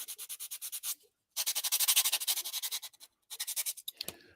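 A sanding stick rubs a plastic scale model in quick rhythmic back-and-forth strokes, crisp and close, in three bursts separated by brief pauses, ending with a soft knock.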